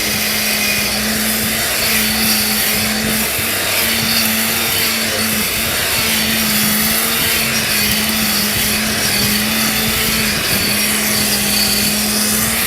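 A Comet mixer grinder runs continuously, grinding a kilogram of rice into flour with a loud, steady motor roar and a humming drone that wavers slightly throughout, with no talking.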